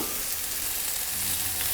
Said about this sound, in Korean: 그리고 이 상태에서 고기가 들어가죠